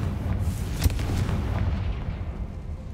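A Confringo fire blast spell cast inside a tomb in Hogwarts Legacy, a single booming burst with a sharp crack that rolls into a low, rumbling decay.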